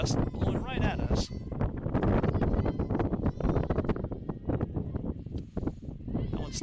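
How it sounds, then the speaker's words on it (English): A wind gust buffets the microphone at an outdoor college JV ballgame, a low, rough rumble that swells and fades beneath voices. "Wind gust blowing right at us."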